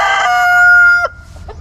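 A rooster in a backyard chicken coop in Mississippi lets out a single loud crow, close by, which ends abruptly and leaves only faint background noise.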